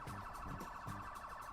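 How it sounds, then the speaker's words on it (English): Police sirens run through tabletop game background music, a steady wailing tone layered with the music and filling the whole stretch at moderate loudness, with no talk over it. "I'm getting too panicky about all these cop sirens."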